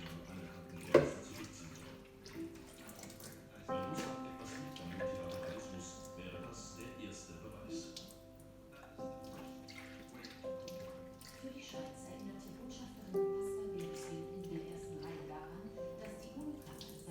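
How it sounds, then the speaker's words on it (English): Water sloshes inside a humidifier's water tank as a cleaning rag is swung around in it, a soft, continuous splashing and dripping with a faint tap-like knock near the start, at low level throughout. "put a cleaning rag in it and then swing it with the water in the water tank"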